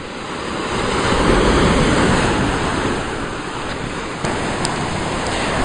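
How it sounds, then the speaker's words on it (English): Waves breaking at high tide on Goodrington Sands beach, a steady loud roar of surf with wind buffeting the microphone throughout. "Look at those waves."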